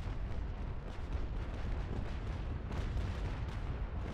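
Ship cannons fire broadsides in the Naval Action sailing game during a port battle at Fort Dauphin, a dense continuous rumble of overlapping booms, steady and fairly far off throughout.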